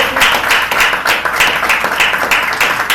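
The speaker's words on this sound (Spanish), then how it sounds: "Un aplauso a aquel." A church congregation applauds, loud and close, with rapid, dense clapping pulsing in a fairly even rhythm across the whole stretch.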